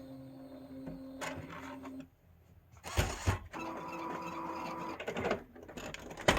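An Epson L1800 DTF printer powering back on, its print head carriage starting to move with mechanical whirring and clicking bursts of motor noise, close and fairly loud, with no talking.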